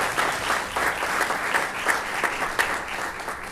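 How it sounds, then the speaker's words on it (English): Applause at a city council special meeting in Garden Ridge, a steady, close burst of many hands clapping with no voices over it, holding evenly for a few seconds. "Round of applause, please"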